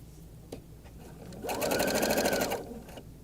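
A sewing machine runs one close, fast burst of about a second, stitching elastic on a shirred top, preceded by soft handling clicks.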